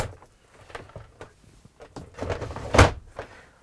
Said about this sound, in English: that door simply slides